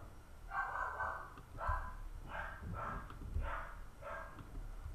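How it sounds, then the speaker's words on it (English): Several short, muffled yips and barks from young dogs in the background, coming in a loose rhythm with a steady low hum underneath. "those are my new puppies, you hear, if you can hear them in the background."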